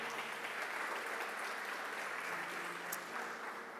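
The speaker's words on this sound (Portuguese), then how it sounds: "Você pode aplaudir a Ele nessa noite?" A church congregation applauds during an evening service, a faint, distant, even patter of many hands that continues steadily throughout.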